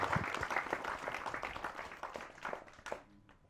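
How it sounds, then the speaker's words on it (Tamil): A crowd applauds at a Tamil film event, a steady wash of many clapping hands at moderate volume that thins out near the end. "அவருக்கு இந்த சமயத்தில் நம்ம எல்லாருமே ஒரு கைத்தட்டல் கொடுக்கலாம்."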